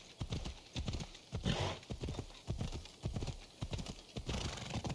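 A horse's hooves clip-clop steadily and close in Assassin's Creed Odyssey, with a brief whinny partway through, over constant game ambience.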